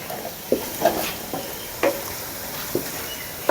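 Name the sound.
potatoes frying in ghee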